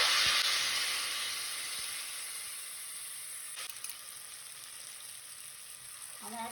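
Onions, ginger-garlic paste, tomato, mint and coriander fry in a pan for Arabian chicken mandi biryani. The sizzle is steady and hissing, loudest at the start and easing slightly, with a brief clatter near the end.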